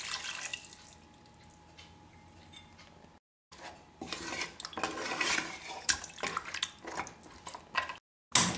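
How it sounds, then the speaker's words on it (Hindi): Water splashes and pours into a metal pressure cooker in uneven bursts, with clinks of cookware between pours; a quiet stretch comes first. "अब इसमें हम पानी डाल देते हैं"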